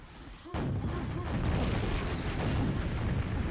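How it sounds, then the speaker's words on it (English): A grenade blast in the fast-paced arena shooter Quake during a 2on2 QuakeWorld match, a sudden loud boom followed by a sustained rumbling roar that stays dense and heavy to the end. "Yeah, nice grenade."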